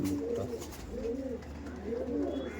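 Punjabi pigeon cooing close by, three rounded, rolling coos in a steady rhythm with a faint hum of room noise underneath.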